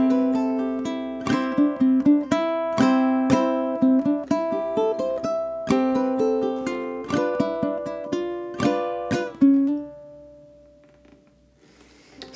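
Ukulele plays the first eight bars of a waltz: clear, close plucked notes and strummed chords in a lilting waltz rhythm, ending on a ringing note that fades out.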